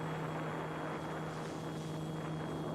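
An Eachine E190S RC scale helicopter's rotor spins steadily at high head speed, a continuous whirring buzz with a constant pitch and no voices.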